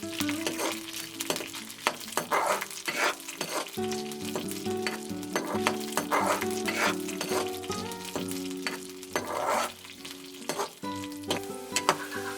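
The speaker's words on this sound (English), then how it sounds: "let's add some oil and cook the fermented beans until soft" Fermented soybeans (akhuni) frying in oil for a Naga chutney, a busy crackling sizzle with frequent spoon scrapes and clanks against the pan, close and continuous, no voices.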